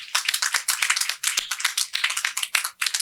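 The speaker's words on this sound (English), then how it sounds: "Please give them a big round of applause for their willingness to go over and above" Applause from an audience at an outdoor nursing pinning ceremony: dense, steady clapping from many hands that fills the whole stretch, with brief dips and swells but no pause.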